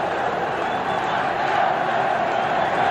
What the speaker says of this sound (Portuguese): É impressionante a torcida do Flamengo no Maracanã.